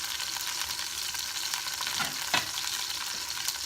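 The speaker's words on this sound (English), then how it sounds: "what we're going to do is just sear it so you're getting the nice brown notes on the outside" Beef searing in a pan over a high flame, a steady close sizzle with spattering crackles and a couple of brief scraping stirs, no talking.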